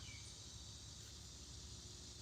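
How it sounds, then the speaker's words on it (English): Cicadas drone outdoors in warm, still summer air, a steady, even high-pitched buzz that holds without a break, with no voices over it. "Cicadas. Cicadas are here."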